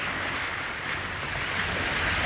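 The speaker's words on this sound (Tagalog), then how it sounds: "Kaya rinig niya alon." Steady wash of ocean surf with a constant broadband roar and some wind buffeting, no voices, continuous throughout.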